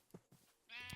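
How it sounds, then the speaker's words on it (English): Sheep bleating in the Minecraft Cobblemon video game, a few short soft calls followed by a louder, sustained bleat at the end, heard alone without talk. "let's grab some sheep to put into our pen"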